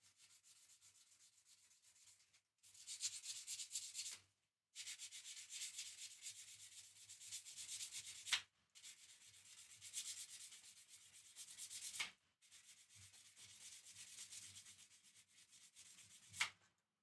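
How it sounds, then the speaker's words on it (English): Hand sanding on a custom guitar in a luthier's workshop, long steady rasping strokes in several bursts separated by brief pauses, close and fairly quiet with no talking. "How much do I love sanding"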